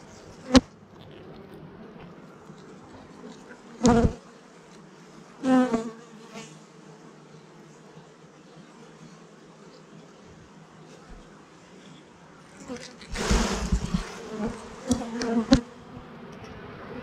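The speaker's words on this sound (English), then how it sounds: "I like calm bees" A steady, low honey bee buzz hums throughout, with a few louder bursts of bees passing close by near the start and toward the end.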